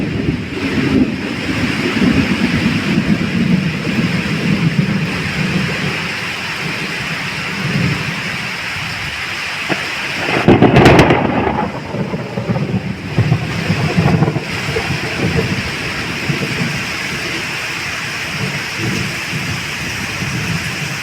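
A thunderstorm brings heavy wind-driven rain, a dense continuous roar with gusts buffeting the microphone and a loud thunder crack near the middle, no talking.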